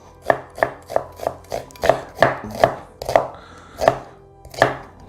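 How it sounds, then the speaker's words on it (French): Knife chopping vegetables for homemade ketchup on a board with a dozen crisp, fairly even thuds, coarse cuts at a steady, unhurried rhythm, close and alone. "je vais couper grossièrement"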